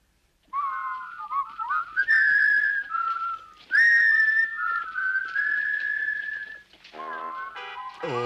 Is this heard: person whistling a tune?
yes